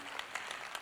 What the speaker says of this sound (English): I really want to start with a very, very big round of applause for our teachers